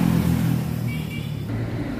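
A 50cc MT6 automatic scooter engine runs through its exhaust, producing a close, steady low rumble that eases slightly partway through, with no talking.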